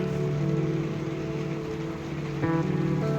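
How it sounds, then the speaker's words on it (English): Steady rain patters on and around a full-time RV on a 49-degree day, a soft continuous wash with a faint low hum and a brief clunk near the end. "It's 49 degrees with rain there."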